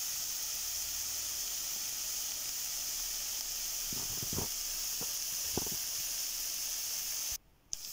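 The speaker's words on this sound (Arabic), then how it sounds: "كنوضعوا البصل فوق البوطه، وكنضيفوا عليهم شويه ديال الزيت، وكنخليهم يتشحروا شويه" Onions frying in oil in a pot give a steady broadband hiss and sizzle throughout, with a few brief clinks or stirring knocks near the middle before the sound cuts off abruptly at the end.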